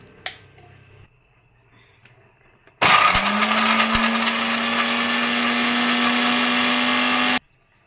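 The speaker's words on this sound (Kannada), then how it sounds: "ಫಸ್ಟ್ ಹಸಿಮೆಣಸಿನ್ಕಾಯಿ ಹಾಕಿ ತರತರಿಯಾಗಿ ರುಬ್ಕೊಂತೀನಿ ಇವಾಗ" A kitchen mixer grinder coarsely grinds green chillies for a corn and sprouted green gram vada, starting abruptly after a few faint clicks and whirring loudly and steadily at close range for about four and a half seconds before cutting off.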